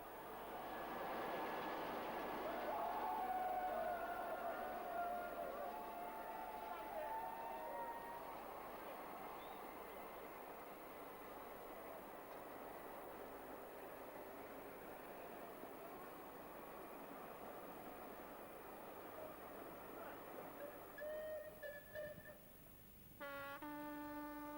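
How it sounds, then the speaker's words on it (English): Class 45 diesel locomotive hauling a West of England passenger train at Andover, a steady rumbling pass with rolling wheel noise at moderate distance that fades gradually, with a few brief tonal sounds near the end. "the unusual appearance of a Class 45 at Waterloo and its use on a West of England train, seen here at Andover,"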